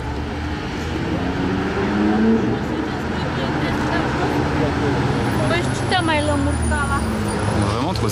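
A convoy of four Porsche 911 GT3 and GT3 RS sports cars, 991 and 992 generations, drives past on the road, a sustained loud engine roar with rising and falling revs, while people talk over it.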